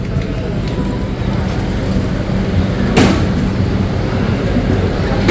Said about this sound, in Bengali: 2 নম্বর প্ল্যাটফর্ম থেকে ট্রেন ছাড়লো।